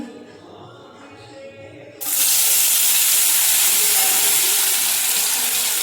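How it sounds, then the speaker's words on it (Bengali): After a quiet moment, a sudden loud sizzle bursts out as fish hits hot oil in a small wok, settling into a steady crackling hiss. "চলো মাছগুলো ভেজে নিই"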